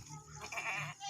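A goat gives a short, wavering bleat at close range, a brief nasal call over quiet background.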